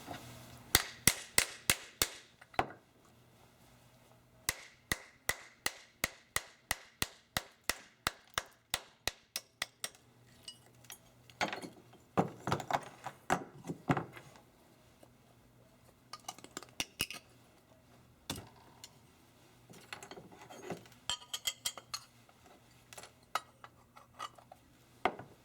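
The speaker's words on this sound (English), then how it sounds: "remove our flasks, and chop away the plaster" Sharp hard clacks and knocks sound as plaster is chopped away from denture flasks, fast rapid bursts of strikes followed by scattered scraping and chipping with short pauses between, close and fairly quiet.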